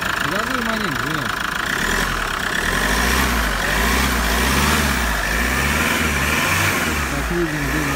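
The engine of a Hyundai Grand Starex runs after a turbo repair, steady loud idle with repeated throttle blips and rising revs, heard close up with a voice over it.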